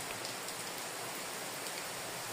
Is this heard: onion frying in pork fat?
no